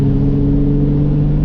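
A VR6 engine in a car drones loudly and steadily under acceleration, a close, continuous rumble with a strong, even tone throughout.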